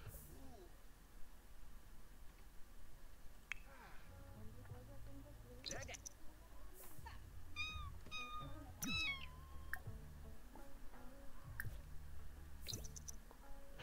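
Cat meows in a game of The Sims 4, several short rising and falling calls amid background game sounds and music, with a person talking at points.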